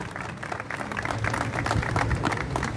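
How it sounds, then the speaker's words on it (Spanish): An audience at a gathering in Zona 4, Guatemala City, applauds steadily, a dense continuous wash of many hands clapping at moderate loudness with a faint murmur of voices. "un fuerte aplauso a quienes estamos acá presentes el día de hoy"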